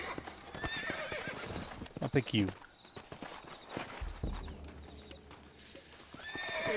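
Horses in Red Dead Redemption snort and whinny while hooves clip-clop close by, with a bright neigh in the middle and scattered footsteps; someone speaks briefly over the game sounds.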